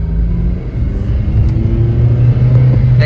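A 2008 Honda Civic Si with a six-speed gearbox pulls through its gears, its engine a steady loud rumble and mid-pitched drone that rises slightly, heard up close from inside the car.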